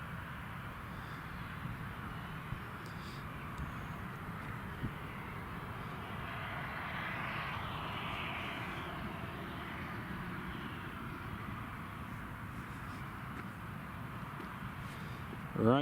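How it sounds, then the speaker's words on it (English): An airliner at Newcastle International Airport spools up for takeoff, a steady, fairly distant broadband roar that builds gently and holds throughout. "I'm looking forward to seeing how much power they use on this takeoff"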